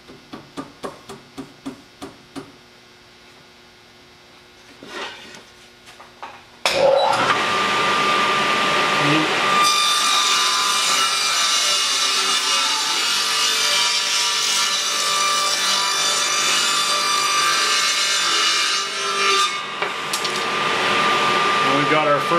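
A table saw cutting a dado in wood for a homemade picture frame: a few quiet taps and shuffles, then the saw spins up abruptly into a loud, steady whining roar that keeps cutting for about fifteen seconds, close by with no voices.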